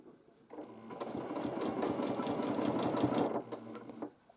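Sewing machine quilting a baby quilt in one steady pass of about three seconds, close and moderately loud, with a quiet start and stop on either side.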